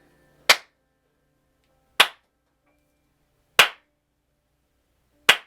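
Four slow, evenly spaced claps from a man sitting in a chair in an audio drama, each a sharp, isolated smack with a short tail and silence between.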